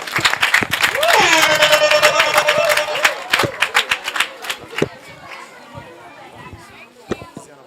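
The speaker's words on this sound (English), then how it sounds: "Let's clap for him." Audience clapping at a community gathering, a burst of applause and scattered claps over children's chatter and voices, swelling quickly and then thinning into sporadic claps.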